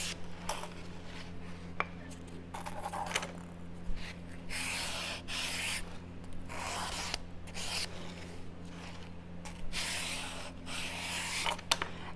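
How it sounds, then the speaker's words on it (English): Folded blue sandpaper rubs back and forth along the edges of a wooden kit in steady, close strokes of rasping scratching, repeated continuously without speech. "So I'm just going to take my blue sandpaper, which is rougher, fold it into thirds"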